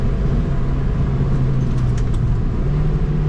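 A Mazda MX-5 pushed hard on a race track with stability and traction control off, its engine droning loud and close with a steady low hum that shifts pitch slightly as it works through gears.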